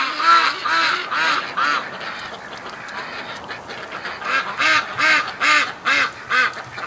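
Domestic breeding ducks quack in repeated bursts, loud and close, with a steady rhythmic run of calls toward the end and no talking.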